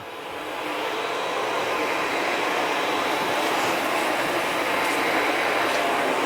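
A Sebo Felix upright vacuum cleaner running at maximum suction, a loud, steady broadband roar that rises in the first half second and then holds constant and close, with no talk over it.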